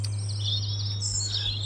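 Birdsong outdoors: thin, high chirping phrases and trills drift through the short stretch over a steady low hum, moderately distant and fairly faint, with no talking.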